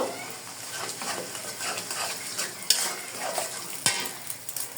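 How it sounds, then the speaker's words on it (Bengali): Three eggs frying in a pan for chowmein, a light sizzle with repeated utensil scrapes and a couple of sharp pan clanks, close by and without talk. "ডিমগুলো দিয়ে আমি ভালো করে ভেজে নিব।"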